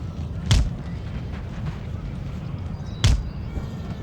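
Light dragoons firing in a multiplayer battle of Empire: Total War: two sharp booming volleys about two and a half seconds apart, rising over a steady rumbling battlefield din.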